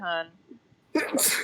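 A single sharp sneeze bursts out close by after a brief questioning voice, during a tabletop role-playing game session.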